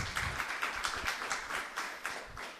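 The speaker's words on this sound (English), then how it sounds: "And I so appreciate those claps" A church congregation claps steadily during a Sunday sermon, many hands striking in a brisk, even rhythm that carries on throughout with no voices over it.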